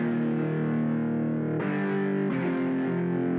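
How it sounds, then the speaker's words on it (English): Distorted electric guitar power chords from a DVS guitar plugin in a house production, thick sustained chords changing twice, loud and alone. "The last thing I want to talk about here is the electric guitar."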